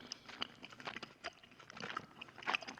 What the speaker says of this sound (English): Oh, is he like munching on Kakuri now? Is Kakuri being devoured?